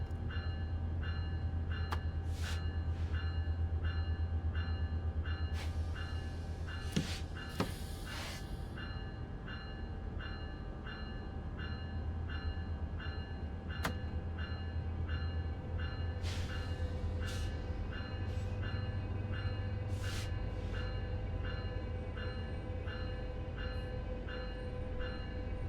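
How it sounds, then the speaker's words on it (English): An American commuter train locomotive in Train Sim World 4 hums and drones steadily, with a high whine, repeated rhythmic clicks of wheels on track, and a few sharp metallic bursts along the way. "So these locomotives sound like a mosquito to me because of the power."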